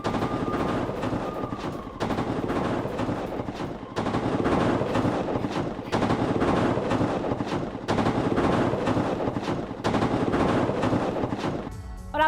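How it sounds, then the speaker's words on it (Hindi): Bursts of rifle fire from Houthi fighters at a weapons training session rattle on steadily in dense, rapid volleys, loud and continuous with brief lulls between groups of shots. "राइफल से फायरिंग करते नजर आए हूती लड़ाके।"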